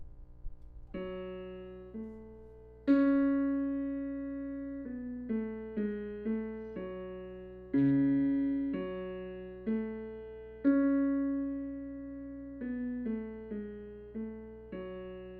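A clean, sustained synth or keyboard tone plays a short melody built from ascending thirds, each note ringing and decaying in a moderate, even rhythm over a low steady drone, heard alone with no talk.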